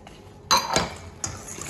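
Dry gluten-free flour, baking powder and salt being stirred in a bowl, with a few sharp utensil clinks against the bowl's side, loud and close in a quiet kitchen.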